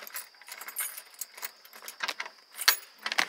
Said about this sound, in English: One of these keys should work here.